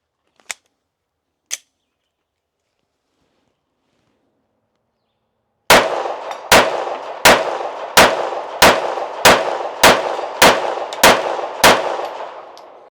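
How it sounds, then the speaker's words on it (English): Ten rapid pistol shots fired with Ingman 124-grain ammunition ring out loud and close, each crack followed by a metallic clang of bullets striking steel targets, after two isolated sharp taps earlier. "Now for 124s, I'm shooting this Ingman 124."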